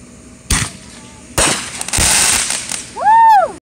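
Fireworks at a Fourth of July show, with several sharp nearby bangs from a mortar launch and bursts, followed by rising and falling whistling shrieks near the end.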